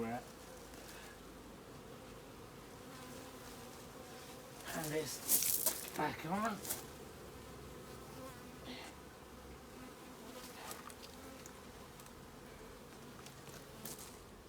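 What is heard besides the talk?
honey bees buzzing around an open beehive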